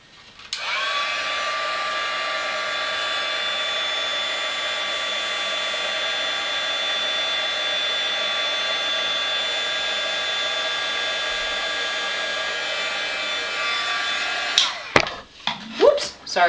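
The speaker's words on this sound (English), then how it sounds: "I'm going to take my heat tool to it, and we'll just heat that up." A heat embossing tool's steady, loud blowing hum runs continuously for about fourteen seconds, then cuts off, followed by a few brief knocks and rustles.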